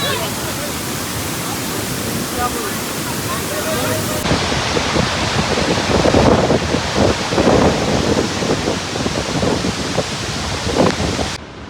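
Strong wind roars steadily against the microphone near the Manche waterfall during the monsoon, a loud continuous rush with voices faintly mixed in beneath it.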